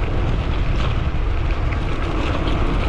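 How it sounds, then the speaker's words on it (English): Steady wind gusts across the microphone outdoors on a hiking trail, a constant loud roar with no voices. "I'm not complaining about this wind."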